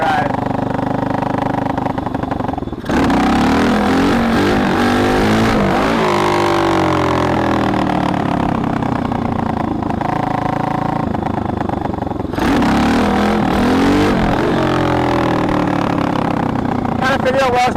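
A Tao Tao DBX1 140cc pit bike engine buzzes loudly and continuously while being ridden, its pitch rising and falling with throttle changes, with a brief dip partway through before it revs back up.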